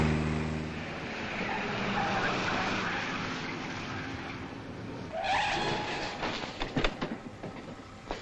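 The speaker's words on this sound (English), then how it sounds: "Keep the engine running." A car engine runs in a 1950s film noir spy drama, a steady rumbling drone that swells partway through, followed by rattling, clattering bursts toward the end.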